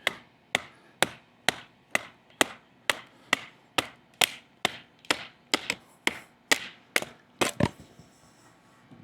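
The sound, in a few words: Kizer knife batoning through a piece of 4x4 wood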